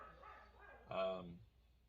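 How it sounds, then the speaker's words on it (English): A single dog gives a brief bark or yip outdoors at a workshop where a McCulloch Pro Mac 555 chainsaw is being worked on. The bark is moderately close and sits over low background noise and faint talk. "dogs are barking"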